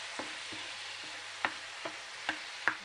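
Prawns fry in a pan for a quick prawn roast with egg, a steady low crackle running throughout with a few sharper pops and ticks scattered across it, close and moderate in volume, no voices.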